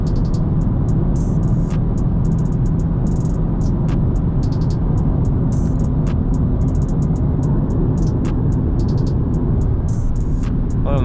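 A Ford Mustang GT approaches in a street race against a Dodge Charger 392 Scat Pack, heard as a steady loud engine and road roar with wind buffeting, close to the listener, with no talking.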